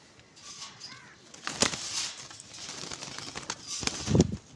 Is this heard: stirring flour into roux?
no